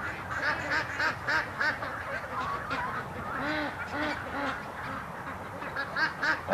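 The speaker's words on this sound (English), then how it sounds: "the ducks are out in the lake now swimming around." A flock of ducks swims on a lake and quacks continuously in dense, overlapping calls, steady and moderately loud from start to finish.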